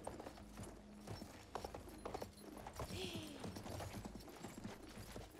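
Rapid hoofbeats clatter steadily as a horse gallops in Battlefield 1, with busy game background sounds and a brief mechanical whir partway through.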